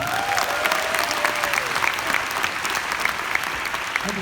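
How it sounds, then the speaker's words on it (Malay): Steady applause from an audience at a business recognition event, a dense even wash of clapping that continues without a break, with no voices standing out above it. "Satu tepukan buat anda."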